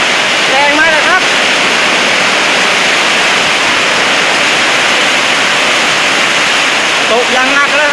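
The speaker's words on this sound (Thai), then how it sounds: "แรงมากเลยครับลมแรงครับแรงมากเลยครับพายุฝนฟ้าคะนองครับ" A heavy thunderstorm in Phetchabun, Thailand, with strong wind and heavy rain, roars as dense, steady broadband noise throughout, loud and close, with a voice briefly audible near the start and end.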